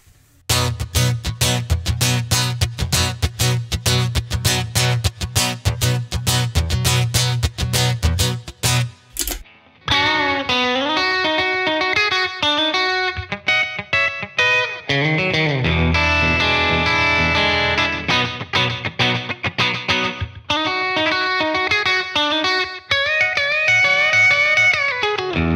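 An electric guitar played through a Line 6 Helix, first in fast rhythmic strummed chords, then after a brief gap switching to a clean-ish electric tone with ringing melodic notes and chords, loud and continuous.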